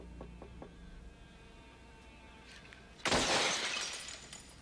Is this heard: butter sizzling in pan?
no